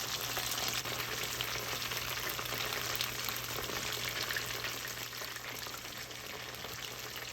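Kara-age chicken pieces deep-frying in hot oil, a steady dense crackling sizzle with faint pops throughout, close and even in level, with no talking.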